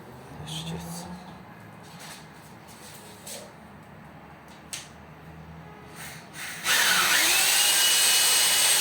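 Power drill boring through a wall during a combi boiler and radiator installation, starting loud and close near the end after muffled, intermittent work noise and some breathing.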